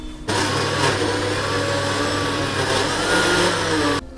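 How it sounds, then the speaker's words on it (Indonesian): A blender whirs steadily at high speed while blending cut bananas for banana jam, a loud, even motor roar lasting about four seconds with no talk. "kita masukkan pisang yang sudah dipotong-potong ke dalam blender"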